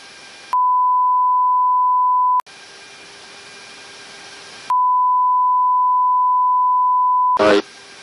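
Fire control radar lock-on warning tone sounds in a Japanese Navy aircraft cockpit, locked on by a Korean Navy ship: a steady, loud pure beep holds for about two seconds, breaks into hissing cabin noise, returns for three more seconds, then a brief burst follows.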